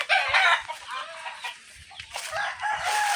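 A flock of backyard chickens and fighting cocks, hens clucking busily while roosters crow in overlapping bursts at moderate distance.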